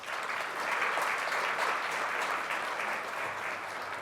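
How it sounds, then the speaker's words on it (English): Steady applause from a meeting audience honouring donors and supporters, a dense even patter of many hands lasting the whole stretch with no voices over it. "Please give them a round of applause as well."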